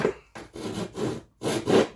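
A hand rasp files across wood on a woodworking build, giving four rough rubbing strokes in a steady back-and-forth rhythm, close and fairly loud with short pauses between passes.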